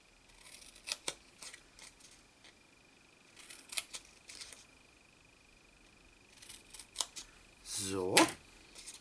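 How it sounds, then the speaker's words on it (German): Scissors snipping into folded cardstock, several short sharp cuts spaced apart then a quick run of crisp snips near the end, close and fairly quiet. "da schneide ich jede einzelne Falz ein, die ich hier gezogen habe"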